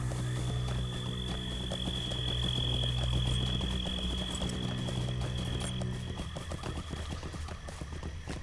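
Horse hooves clip-clopping in the online video game Lord of the Rings Online, a dense steady patter of steps under a constant low game ambience with a faint whinny, running for several seconds.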